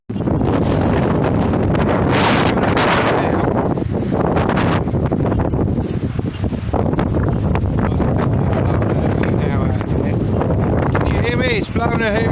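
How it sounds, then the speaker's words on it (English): Strong winter wind in Reykjavik, Iceland, blasting the microphone with loud, continuous roaring buffets that barely let up, close and overwhelming throughout. "It's blowing a hoolie. Wind is picking up and it takes off our feet."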